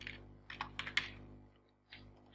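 A few quick, faint keystrokes tap on a computer keyboard in a quiet room, clustered in a short burst followed by a single later press.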